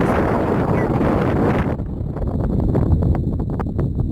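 Strong wind in the desert buffets the microphone with a loud, rumbling roar that drops partway through to a lower gusty rush with scattered knocks.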